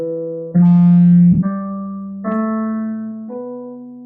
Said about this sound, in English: basically, you go from C all the way to the octave of C